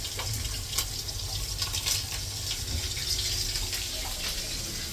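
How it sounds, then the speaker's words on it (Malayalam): Water runs steadily from a tap as hands are washed, a continuous close splashing hiss with no talk over it. "കൈ കഴുകട്ടെ."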